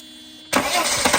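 A 1990 Mercedes 300E engine cranks and catches abruptly after a moment of quiet, then settles into a loud, close idle that pulses unevenly as it warms.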